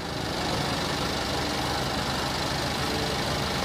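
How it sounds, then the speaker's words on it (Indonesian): A 2012 Daihatsu Xenia R Deluxe automatic engine idles steadily, a continuous smooth hum with no talking, recorded close to the engine. "Dan ini untuk suara mesinnya halus."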